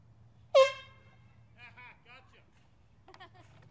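One sharp, loud air horn blast up front on a golf course, followed by a few voices talking quietly over a low hum.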